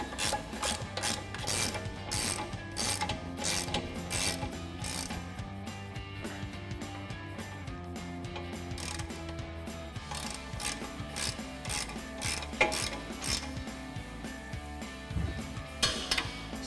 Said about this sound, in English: we'll grab our 18mm socket on our ratchet and tighten this back down